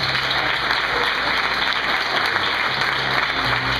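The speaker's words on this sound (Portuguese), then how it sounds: "Vamos aplaudir Jesus, Deus." Steady, loud applause from a church congregation during a missionary's ordination service, a dense, even wash of clapping that continues without a break.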